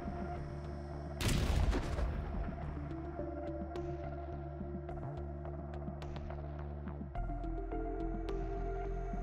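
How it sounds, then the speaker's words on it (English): A single loud, broadband explosion bursts out early as a howitzer is destroyed in the war in Ukraine, followed by a low rumbling hum and scattered crackles as it fades into steady background drone. "as a result of a powerful explosion, the howitzer was completely destroyed."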